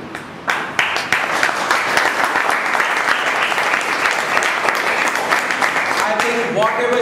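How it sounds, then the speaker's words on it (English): Audience applause for a speaker being recognised for communication skills, steady dense clapping lasting several seconds with crowd noise, fairly loud and continuous, tapering toward the end. "Big round of applause for Ashwati."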